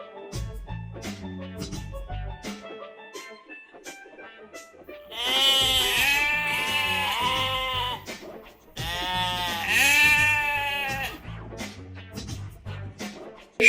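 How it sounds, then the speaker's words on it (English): Farm sheep bleating loudly and close, two long wavering bleats separated by a short pause, with quieter background sounds before and between them. "Sheep,"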